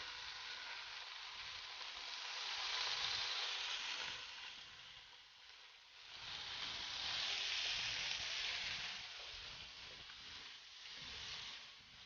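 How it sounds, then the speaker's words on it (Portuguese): Fish fillets sizzling in a hot frying pan, a steady bright hiss that swells and fades in waves, close and continuous with no talk. "A frigideira chegou na temperatura que eu queria, agora então a gente vai grelhar os filés de peixe"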